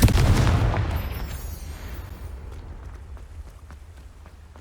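Spell casting with explosions in the Hogwarts Legacy video game: a loud, close burst opens, then fades into a long rumbling tail that thins out over several seconds, with no voices.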